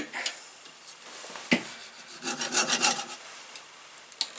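A hand saw rasps through green wood in a quick run of short back-and-forth strokes, fairly quiet, with a couple of knocks around it.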